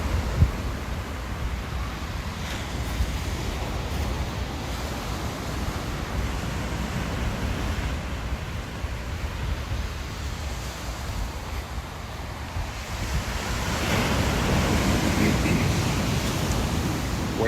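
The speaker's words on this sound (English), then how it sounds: "Waves are coming in." Ocean waves roll onto Humarock Beach in Massachusetts, a steady loud wash of surf with wind rumbling against the microphone, swelling a little toward the end with no talk.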